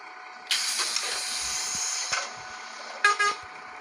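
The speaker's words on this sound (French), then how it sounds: "Le klaxon, j'adore." Bus horn honking in a Roblox bus-driving game: a long blaring blast of about a second and a half, then two short toots near the end, set over a steady low background hum.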